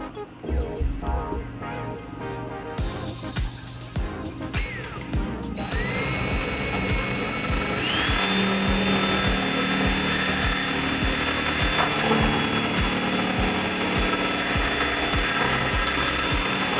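Power drill boring into a Subaru WRX trunk lid with a larger bit for a spoiler install, a loud continuous whirring grind after a few short bursts and clicks.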